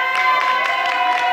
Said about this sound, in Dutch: maak ook nog een avond applaus voor onze Rudy.